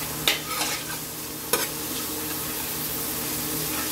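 Garlic sautés in melted margarine in a pan, a soft steady sizzle broken by two sharp clinks of a utensil against the pan near the start.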